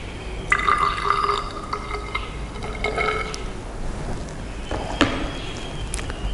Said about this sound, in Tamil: ஆல்கஹாலுக்குள்ளே அந்த 15 ml விடணும்.